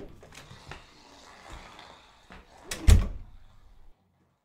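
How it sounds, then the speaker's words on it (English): A door is opened in a quiet interior: soft handle and latch clicks build to a sharp, close clunk near the end, then the sound stops. "Here, I'll get the door for you."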